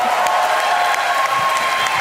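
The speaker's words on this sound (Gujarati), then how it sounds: "Round of applause for Emily Shah" A comedy show audience gives a bride-to-be a round of applause, dense steady clapping from a crowd filling the room for the full stretch.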